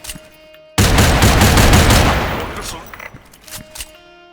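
A chrome Kengcmz gun fires in Special Force 2, a loud, rapid burst of about seven close shots that starts abruptly and fades into a ringing tail with a few softer clicks afterward.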